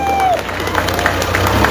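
An audience at a poetry mushaira in Walandi claps and cheers in a brief, dense burst of applause.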